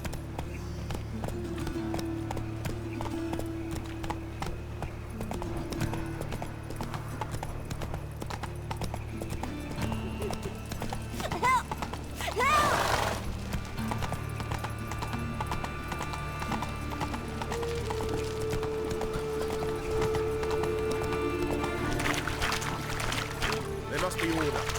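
Horse Roach galloping in The Witcher 3, a steady clip-clop of hooves running throughout, with occasional whinnies, game music and spoken dialogue over it.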